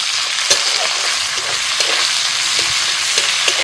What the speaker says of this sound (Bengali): ফোড়ন হয়ে গেছে, দিচ্ছি পেঁয়াজ কুচি।